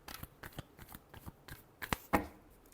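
Tarot cards are shuffled by hand in a quiet room, a series of crisp riffling flicks and soft slaps that come in irregular bursts, close and fairly faint, with no voices.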